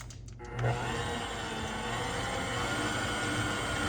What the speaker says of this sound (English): I'm gonna let this machine, I have my kneading blade on, my dough blade.